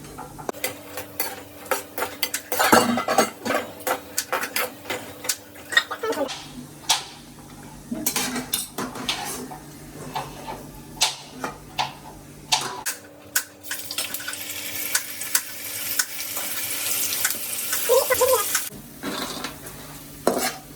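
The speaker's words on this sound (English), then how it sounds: "Just have to put all the cashews and fry until it's brown" Cashews frying in a pan with a constant sizzle, broken by frequent clinks and scrapes of a utensil stirring against the pan, with a brief burst of louder hissing partway through.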